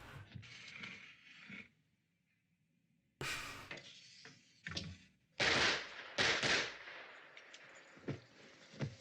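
Gunfire crackles in the old horror film Night of the Living Dead, sharp broadband bursts and short volleys spread across several seconds with quiet gaps between, heard at moderate loudness.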